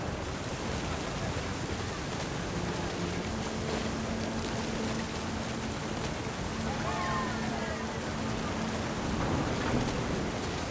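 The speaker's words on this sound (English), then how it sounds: "The thunder sounded much too close and full of angry power." Steady, dense rain hisses throughout a stormy scene in What Remains of Edith Finch, with low thunder rumbling beneath it and faint tonal sounds drifting through the downpour.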